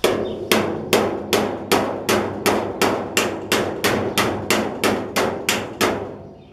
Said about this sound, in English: Much just let the hammer fall when I do it.